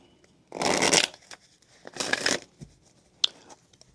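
Tarot cards being shuffled by hand in two long riffling bursts, then a few short slaps and flicks of the deck, close and clear with no talking.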